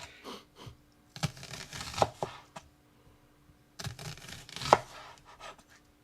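A knife chops through a raw onion on a board in a home kitchen, two clusters of crisp cuts and taps separated by a quiet gap, close and moderately loud.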